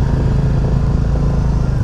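A Royal Enfield Classic 350 single-cylinder motorcycle engine idles close by, a loud, steady low thumping with a continuous mechanical rumble and no voices.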